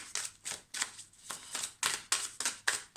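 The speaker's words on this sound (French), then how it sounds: "J'essaie de mélanger bien parce que..." Oracle cards being shuffled by hand, a series of quiet, close riffling swishes in quick bursts about every third of a second.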